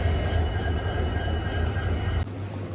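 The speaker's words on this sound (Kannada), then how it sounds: "ಕೊನೆಗೂ ಇಷ್ಟೊತ್ತು ಕಾದ್ಮೇಲೆ ಟ್ರೈನ್ ಬರತೈತಿ." A train rumbling past a station at close range, with loud, continuous low roar and steady clatter that cuts off abruptly near the end.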